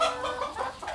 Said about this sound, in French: Attention les poules.